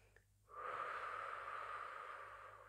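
A long, steady inhalation taken during a guided meditation, drawn in slowly and evenly for about two seconds after a brief quiet pause, close and soft with an airy hiss.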